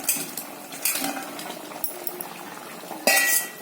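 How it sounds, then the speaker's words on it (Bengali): Gravy for chili chicken in a pan, heard mostly as metal spoon clinks and scrapes against cookware, with a soft bubbling hiss underneath and a louder clatter near the end. "ঝোলটা ফুটছে"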